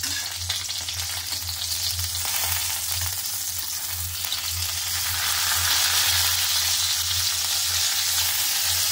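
Stuffed green chillies fry in a covered pan and are flipped over, a steady close sizzle holding throughout with a low hum underneath and a slight swell in the hiss toward the end.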